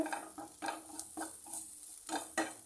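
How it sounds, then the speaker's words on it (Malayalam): Grated coconut and onion sauté in a pan for a spinach stir-fry, heard as soft, faint sizzling with a series of short stirring scrapes spaced about half a second apart. "നമ്മുടെ തേങ്ങായും ഉള്ളിയും എല്ലാം നമുക്ക് നന്നായിട്ടൊന്ന് വഴന്നിട്ടുണ്ട്"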